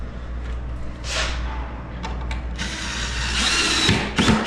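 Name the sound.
power drill driving screws into wooden crate shelving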